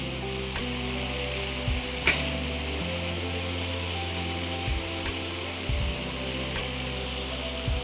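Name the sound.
thinly sliced onion frying in spiced oil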